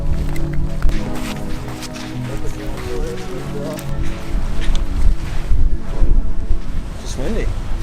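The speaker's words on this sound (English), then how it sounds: "There's a lot of wind in your face" Strong wind blows on a beach at dawn before surf fishing on Martha's Vineyard, roaring steadily against the microphone in a loud, continuous rumble with gusts throughout.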